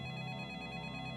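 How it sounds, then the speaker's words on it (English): In the Specter arcade map, the chime for entering the correct code: a steady, bright ringing tone holding evenly through a short moment, fairly faint and alone. "that is the sound of getting the code right"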